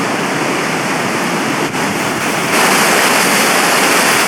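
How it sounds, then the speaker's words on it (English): Loud, steady roar of a fast, savage river on Iceland's Laugavegur Trail, broadband rushing water filling the scene up close, swelling slightly louder partway through with no voices. "There is an absolute savage river to cross."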